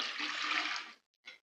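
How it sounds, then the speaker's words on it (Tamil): Water poured into a pot on the stove for steaming gooseberries, a close, loud splashing gush for about a second, then a brief final splash, with no talk. "இப்போ தண்ணி ஊற்றிக்கலாங்க."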